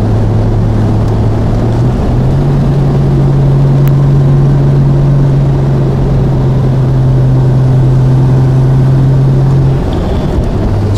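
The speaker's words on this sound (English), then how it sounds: "Wonderful TR6 sound." A 1972 Triumph TR6 with a freshly rebuilt engine and stock exhaust drives along, its motor a loud, continuous drone that holds one pitch, dips briefly, then steadies again for the whole stretch, with no voices.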